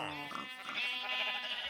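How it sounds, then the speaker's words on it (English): Video game sheep bleat in a quick run of several cries in a farm village, layered tones close and fairly loud with no other sound around them. "I have light sheep, light gray sheep, I have dark gray sheep, I have black sheep"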